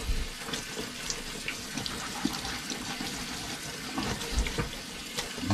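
Water runs steadily from a tap into a low kitchen sink, a continuous close splashing and gurgling with no talk.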